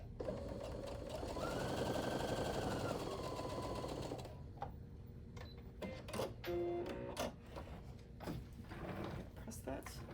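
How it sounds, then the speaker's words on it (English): A sewing machine hums steadily for several seconds, joining two quilt pieces, then stops, followed by scattered small clicks and handling noises nearby. "So the first thing I'm gonna do is I'm gonna sew these two together."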